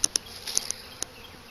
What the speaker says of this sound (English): you can see that the bees are flying quite well, actually